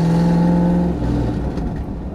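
A Ford Mustang with a damaged exhaust revs loudly and close by, its engine holding a steady rough drone before dropping slightly in pitch.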